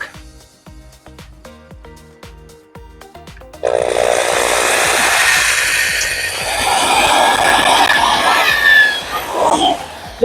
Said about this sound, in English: let's drill that mark.